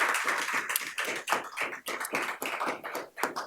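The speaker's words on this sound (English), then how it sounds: "And that one does deserve a round of applause." A room full of people claps in a sustained round of applause at a city mayor's event naming new appointees, dense overlapping hand claps at steady loudness with no talk.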